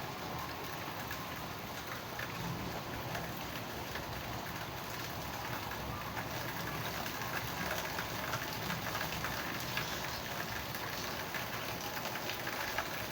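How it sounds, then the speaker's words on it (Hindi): Constant, dense hiss of steady heavy rainfall continues evenly throughout, fairly quiet and with no voices. "ज़बरदस्त बारिश हो रही है।"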